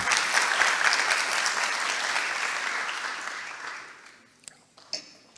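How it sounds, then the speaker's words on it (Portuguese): An audience at a gastronomy talk applauds warmly, the dense clapping fading out over several seconds, followed by a few faint scattered knocks. "Aplauso para ele."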